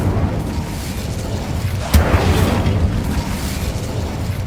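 Incendio fire spell in a film creator pack sets off a single sharp burst with a deep boom near the two-second mark, trailing into a rumbling roar over steady background noise.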